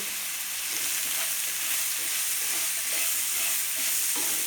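Snake gourd curry with tomato, turmeric, chilli and coriander powders and salt frying in a pan, a steady close sizzle with occasional stirring scrapes, continuous and alone.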